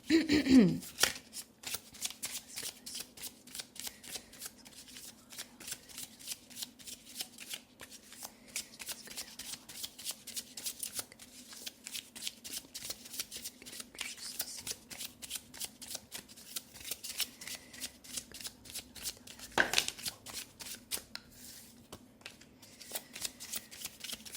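Oracle cards are shuffled continuously by hand, a long run of rapid, close riffling clicks in a steady rhythm, with a brief louder shuffle near the end and a voice faintly at the start.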